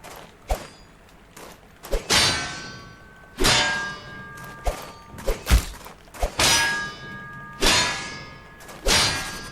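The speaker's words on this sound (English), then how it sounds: "Now I'll parry them." Swords clang while parrying attacks in a knightly tournament setting, with loud metallic strikes that ring out, arriving irregularly about every second or so and mixed with a few dull thuds.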